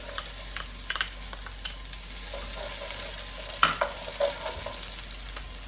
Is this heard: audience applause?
no